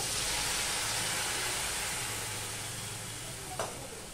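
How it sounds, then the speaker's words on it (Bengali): Spice paste with turmeric sizzling hard in a pan just after water is added for a long bean dish, a loud steady hiss that eases slightly, with a brief clink near the end. "মশলাটা কষানোর জন্য একটু জল দিয়ে দিলাম।"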